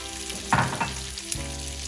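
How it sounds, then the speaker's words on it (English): Salmon and onions frying in a pan at breakfast, a close, steady sizzle with a couple of sharper spits and crackles partway through. "Turn this down and let the heat just continue to cook through the salmon."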